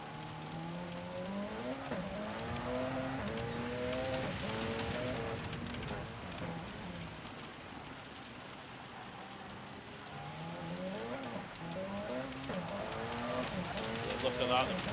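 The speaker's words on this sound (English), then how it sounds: "Looks like he was having wheel spin right up into 4th gear there." Racing-game car spinning its wheels on a wet track, with engine revs climbing and falling through the gears, over a continuous hiss of spray and rain, while a commentator talks throughout.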